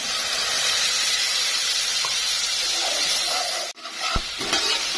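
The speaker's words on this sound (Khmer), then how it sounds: "ចាបន្ទាប់មកនេះខ្ញុំចាក់ខ្ទិះដូងដើម" Coconut cream poured into a hot pan for a snail curry, giving a loud, continuous steamy hiss that cuts off abruptly near the end before a few softer stirring clinks and sizzles, close up.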